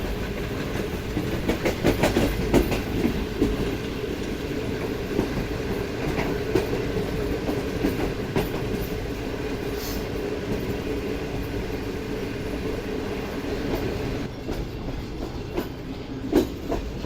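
A moving passenger train in Pakistan rumbles and clatters steadily over the rails, with rhythmic clicks from the wheels and occasional faint squeals, heard from inside an AC Standard carriage.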